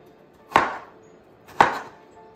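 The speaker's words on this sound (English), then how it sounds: "cut them into moderately small pieces" A big kitchen knife chops cucumbers into small pieces on a board, two sharp, close thuds about a second apart, each followed by a short ringing decay, with no talking.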